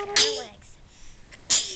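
A sharp sneeze bursts out, followed after a short pause by a second sneeze, with a brief bit of speech between them.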